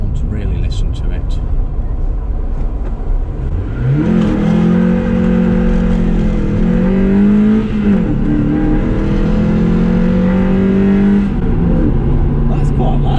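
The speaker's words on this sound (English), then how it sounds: "I just like the intake noise" Mazda MX5 drift car with performance mods revving hard, loud rising and falling engine drone with intake roar that climbs, holds and dips over several seconds, heard close up with people talking nearby.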